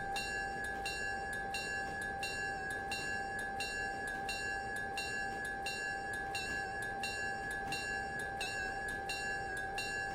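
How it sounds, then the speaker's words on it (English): Cast steel locomotive bell in the game Railroader, a steady metallic clang repeating at an even pace over a constant hum of train noise throughout. "Mark says that's a cast steel bell for you."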